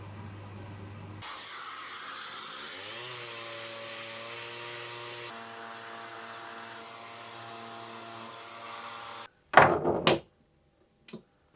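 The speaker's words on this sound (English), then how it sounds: "I don't like the gold paint on the wooden portion of it, so I think I'm going to sand that off." A power sander works gold paint off wooden table legs, a steady whirring hiss that runs for about eight seconds with a shifting motor tone, then stops and is followed by a few brief clunks as the work is handled.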